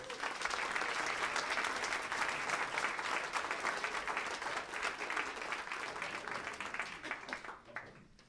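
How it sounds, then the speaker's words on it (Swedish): A live audience claps loudly to welcome a singer on stage, dense sustained applause that fades out near the end. "välkomna henne med en stor applåd"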